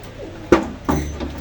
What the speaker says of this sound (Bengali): এগুলো আছে ওই যে পাকিস্তানি টেডি কবুতর